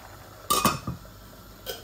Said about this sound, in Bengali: এই আমি 1 চামচ ব্রাউন সুগার দিচ্ছি